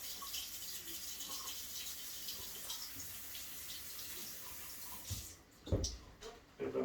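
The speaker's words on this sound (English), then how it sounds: "Same thing, rinse them off." Orange vegetables are rinsed under a running tap at a farm kitchen sink, a steady close hiss of flowing water with a few louder splashes and clunks near the end.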